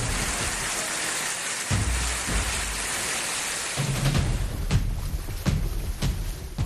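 Heavy rain pours steadily in Ahmedabad amid strong wind, a dense continuous wash with sharper spattering bursts toward the end and no voices.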